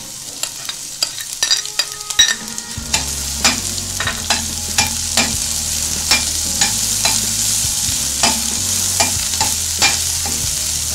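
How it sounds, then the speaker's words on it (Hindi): Garlic and onion sizzle in a hot pan as pizza toppings are prepared, with a steady frying hiss, frequent spoon clicks and stirring scrapes close by and no talking. "ये लहसुन फ्राई हो रहा है, अब मैं इसमें ये प्याज शामिल कर दूंगी"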